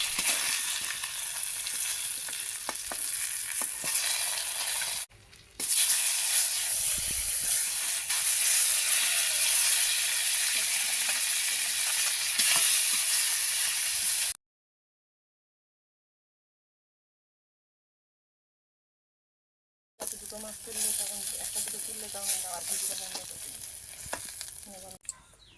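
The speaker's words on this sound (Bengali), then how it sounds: "বাকি মাছগুলো একইভাবে ভেজে নেব।" Fresh pond fish sizzle steadily in hot oil in a home kitchen pan, a loud continuous frying hiss that breaks off briefly, falls fully silent for several seconds, then resumes.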